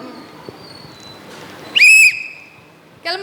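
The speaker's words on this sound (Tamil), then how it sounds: "விசில் ஊதுன பிறகுதாம்மா ஏறுவா" A bus conductor blows a whistle, giving one sharp, loud, piercing blast of about a third of a second close by, followed a second later by the start of another shrill blast over quiet background.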